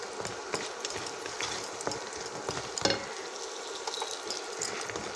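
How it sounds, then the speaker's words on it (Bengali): Lentil dumplings (dal bori) fry in a pan to a light brown, giving a continuous crackling sizzle with frequent scrapes and taps of a utensil stirring them, close and steady throughout. "ডালের বড়িটা হালকা করে ভেজে নেব"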